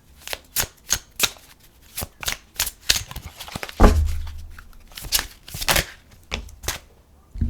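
Oracle moon cards shuffled by hand, a run of crisp riffling flutters in quick regular bursts with a heavier thump partway through, close up and with no voices.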